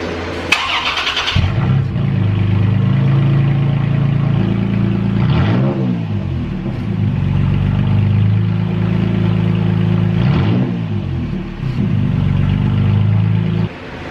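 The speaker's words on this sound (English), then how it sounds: "There is the Tacoma with no muffler on it." Toyota Tacoma pickup engine with no muffler, heard from under the truck: a loud, deep, steady exhaust drone after it starts, with two brief revs in the middle before it settles back to idle.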